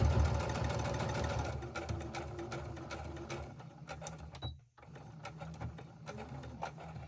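Sewing machine stitching a patchwork pencil pouch made of fabric pieces, a steady mechanical whir with a dense fast needle rhythm that runs nearly continuously, pausing briefly once before resuming.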